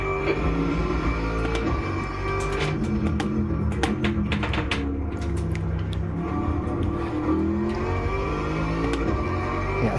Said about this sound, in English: Okay, Dustin, there's a faster car approaching.